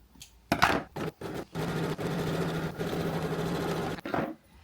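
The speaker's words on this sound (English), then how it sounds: "maybe I can zigzag stitch it to tidy it up a bit" A sewing machine zigzag stitches the edge of tea towel material. It starts with a few short bursts, then runs in a steady, close whir for several seconds before stopping with a brief final burst.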